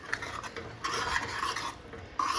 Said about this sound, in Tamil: இப்போ சேர்த்து நல்லா கிளறி கொடுக்கலாம்.